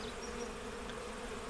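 Bees buzz around a homemade bee feeder after a rain, a continuous low hum from several insects close by that stays even throughout with no voices.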